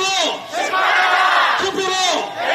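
A large crowd at a Busan election rally chants a short two-beat slogan in loud unison, repeated twice with a brief dip between calls.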